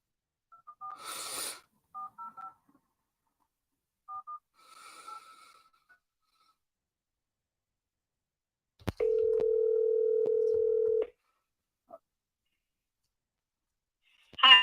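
Several brief telephone keypad tones tapped out in quick clusters, then a single steady tone held for about two seconds while placing a call, quiet and close with silence in between.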